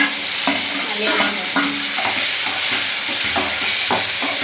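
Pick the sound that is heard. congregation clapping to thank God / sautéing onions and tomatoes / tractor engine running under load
sautéing onions and tomatoes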